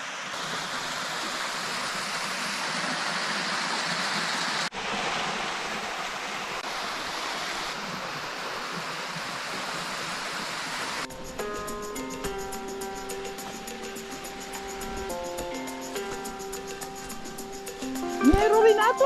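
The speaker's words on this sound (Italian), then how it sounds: "Eccoli qua i gorghi." A mountain stream swirls through whirlpools beside a small waterfall, a steady broadband rush of water heard close. Partway through, music takes over and the water is pushed into the background.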